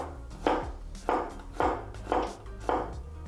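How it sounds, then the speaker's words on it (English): A knife cuts peeled garlic cloves into thin slices on a cutting board, about five evenly spaced, crisp chopping strokes heard close up with no talking. "Then cut it into thin slices."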